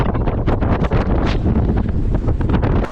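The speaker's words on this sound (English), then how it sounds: "You probably can't hear me because it's so windy" Strong wind on a volcano slope buffets the microphone in a constant, roaring rumble with gusty surges, loud and close, with no other sounds coming through.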